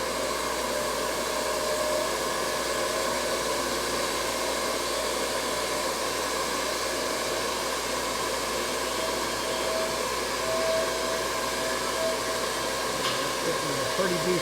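A sawmill cuts a small log with the blade and debarker running, giving a steady, unbroken whining roar at even loudness throughout, close by, with no talking.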